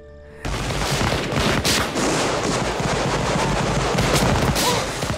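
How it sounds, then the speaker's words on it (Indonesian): A sudden burst of massed musket volley fire erupts after a brief quiet, then continues as a dense, crackling roll of overlapping shots with occasional louder cracks. "Satu ronde tembakan dilakukan, musuh lalu memperdekat jarak dan dilakukanlah ronde tembakan yang kedua."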